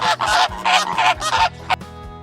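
A flamingo honks repeatedly in a loud, close series of nasal, goose-like calls with short gaps between them, ending in a final shorter honk.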